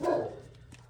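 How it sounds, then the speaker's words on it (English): Dog giving a single close, loud bark indoors that fades quickly, followed by faint background sound. "Sorry about my dogs."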